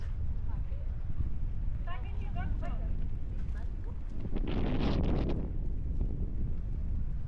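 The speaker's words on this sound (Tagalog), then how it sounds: "It's so windy here." Wind on Boracay buffets the microphone with a constant low rumbling roar, gusting stronger midway, while faint voices come through underneath.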